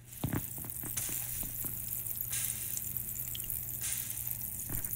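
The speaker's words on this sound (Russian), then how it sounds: "там стейк жарится" A steak sizzles in the survival video game Abiotic Factor, a faint, steady hiss with occasional crackles and drips under a low hum, no speech.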